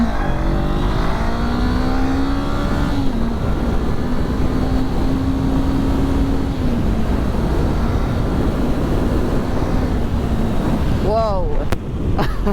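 Honda CBR500R 2024 sport motorcycle pulling away from a standing start, its engine note climbing through several gear changes over strong wind rush, loud and continuous throughout.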